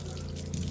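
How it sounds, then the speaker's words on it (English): A running water pump hums steadily while water rushes from a pipe leak where the line has been chewed, a continuous close gushing and drone with no voices. "Water running, pump running"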